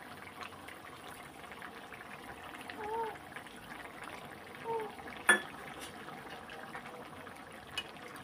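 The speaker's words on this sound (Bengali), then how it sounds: "লাউ সিদ্ধ হয়ে গেছে, একটু ফুটুক" A pot of Bengali gourd and egg curry simmers on the stove with a faint, continuous low bubbling and a few soft clinks, heard close but quiet.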